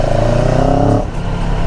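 A motorcycle engine revs up loudly and close, a rising droning pitch for about a second before dropping back to a rough idle.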